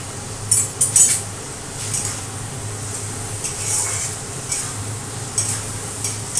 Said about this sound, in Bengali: দেখো আমি এখন লঙ্কার গুঁড়ো হলুদের গুঁড়ো দিয়ে ওই মশলাটা একটু কষাচ্ছি